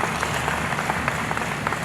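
Audience clapping at a formal event on India's development, offered in congratulation to an honoured guest, a thick continuous wash of applause at even loudness the whole way through.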